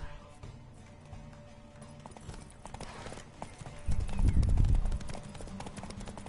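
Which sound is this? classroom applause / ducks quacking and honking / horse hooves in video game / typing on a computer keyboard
horse hooves in video game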